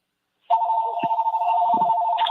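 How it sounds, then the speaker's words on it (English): A telephone-like electronic tone starts abruptly and holds steady, warbling slightly, with faint clicks and rustles beneath it. "I can hear some ringing in the background"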